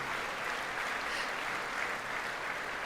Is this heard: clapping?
yes